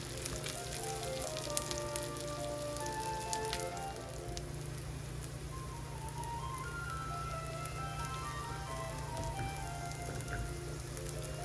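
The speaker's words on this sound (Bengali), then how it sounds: "খুবই অল্প তেল দিয়ে শ্যালো তেলে আমি হ্যাশ ব্রাউনগুলি একটু লাল লাল ক্রিস্পি করে ভেজে নিই উল্টে পাল্টে।" Hash browns fry in a shallow layer of oil in a frying pan, a steady close sizzle and crackle running throughout with no one talking.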